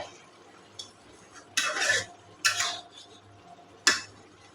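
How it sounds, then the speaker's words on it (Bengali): Lid of a cooking pot of vegetable curry being handled, a few separate metallic clanks and scrapes against the pot, close and fairly quiet, with short gaps between. "আমি এখন ঢাকনাটা খোলা দেখবো তরকারিটা কী অবস্থায় আছে"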